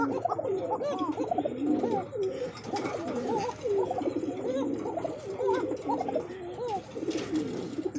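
Pigeons sold as a pair, with a male bird, coo in a steady run of throaty, rolling calls close by, repeating throughout with no talk over them.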